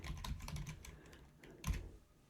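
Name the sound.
typing a name on a computer keyboard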